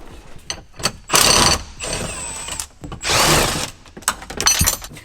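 A ratchet wrench with a 10 mm socket spins a nut in two loud, buzzing bursts of rapid clicking, separated by quieter clanks and handling noise.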